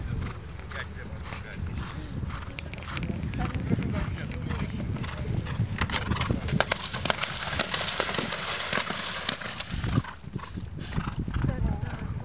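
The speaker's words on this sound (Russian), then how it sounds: "На очень хорошем галопе продвигается." Horse galloping on an eventing cross-country course, rapid rhythmic hoofbeats drumming steadily throughout under continuous commentator speech and crowd noise.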